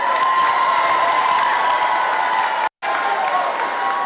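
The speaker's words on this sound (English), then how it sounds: "I want everybody just to give an applause for Mone." Crowd at a Muay Thai kickboxing bout applauding and cheering for a fighter leaving the ring, a loud continuous roar of clapping and whoops with a brief cut near the end.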